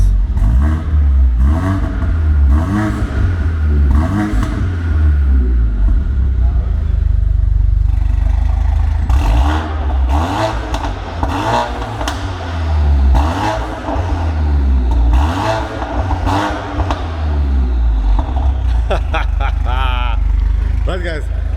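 Mercedes A45 AMG engine revving up and down in repeated bursts with closed exhaust valves, a loud, close, throaty rise and fall with some clatter, while people talk over it.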